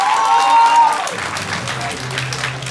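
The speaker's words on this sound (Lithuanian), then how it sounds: "Tad prašau savo mėgstamiausią influencerį palakyti gausiais plojimais" At a gymnasium school celebration, a voice is briefly heard, then the audience breaks into a short burst of clapping.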